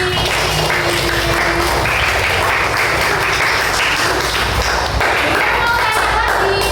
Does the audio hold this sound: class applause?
yes